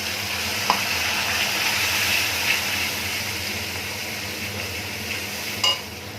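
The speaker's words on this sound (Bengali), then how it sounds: "মশলাটা ভালো করে কষে নেব।" A ground paste of ginger, cumin, coriander, mustard, turmeric and chilli fries with tomatoes and green chillies in oil, giving a steady sizzle with a few sharp clinks of a stirring utensil.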